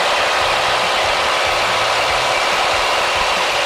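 A small airplane engine roars steadily at full takeoff power, a loud, constant dense drone with a low rumbling undertone and no breaks or talk.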